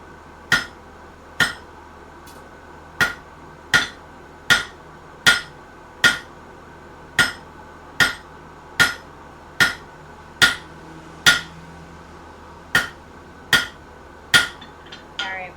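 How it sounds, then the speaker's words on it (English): A large hammer strikes nails into a board in a steady series of about eighteen loud, sharp metallic blows, evenly spaced, with quiet gaps between them. "What if we change hammers? We'll get more force out of a bigger hammer."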